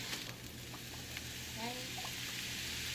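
Eggs scrambled in a hot pan for shrimp egg foo young give a steady, soft sizzle with faint scraping stirs and a brief voice in the background.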